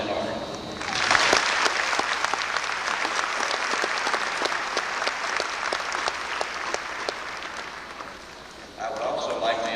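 A graduation audience breaks into sustained applause, with dense, moderately loud clapping that swells quickly, holds for several seconds, then thins out as a voice resumes.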